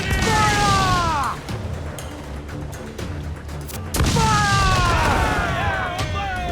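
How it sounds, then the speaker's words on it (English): Ship cannons in Assassin's Creed 4 Black Flag fire in heavy booming blasts, one near the start and another a few seconds later, each followed by rumbling crash and debris under whistling in-game sound. "Cannon ready! Fire!"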